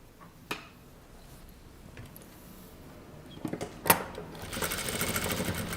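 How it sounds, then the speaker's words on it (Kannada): After a few quiet clicks and fabric handling, a sewing machine starts stitching a folded one-inch kurta hem, its rapid mechanical whir building up and running steadily at close range. "ಸೊ ಆ 1 ಇಂಚನ್ನ ಫೋಲ್ಡ್ ಮಾಡಿಕೊಂಡು ಸ್ಟಿಚ್ ಮಾಡಿಕೊಳ್ಬೇಕು"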